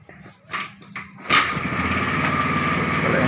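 A car engine is hand-cranked with the ignition switched on and catches into a steady, loud idle that runs without a break after a few short sputters, close by in a parking lot.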